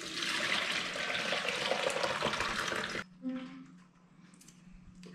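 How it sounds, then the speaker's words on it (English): Red cabbage solution pours through a colander in a loud, continuous splashing gush for about three seconds, then stops, leaving faint drips and quiet handling sounds. "Once your cabbage solution has cooled down, strain it off using your colander."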